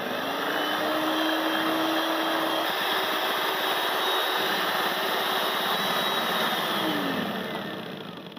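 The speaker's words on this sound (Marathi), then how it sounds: "चार ते 5 मिनिटं हाय स्पीडवर पुन्हा आपण हे ब्लेंडर फिरवून घेतल्यानंतर" A blender runs at high speed whipping cream with powdered sugar, giving a loud, steady, close whirring roar that holds evenly and fades slightly at the end.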